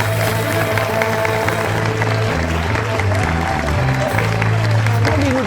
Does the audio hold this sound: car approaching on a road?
no